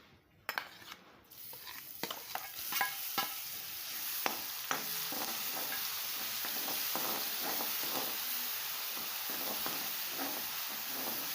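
Ground green chili fries for a spinach dish, a steady sizzle in a pan under repeated stirring scrapes and light clinks of a utensil, close and continuous throughout.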